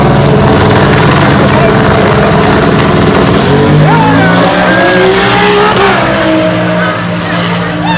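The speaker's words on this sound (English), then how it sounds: "Another Fox body versus another MK4 Supra." A Fox body Mustang and an MK4 Toyota Supra drag race at a motorsports track, loud engines roaring and rising in pitch through gear changes, with a crowd and announcer-style voices underneath.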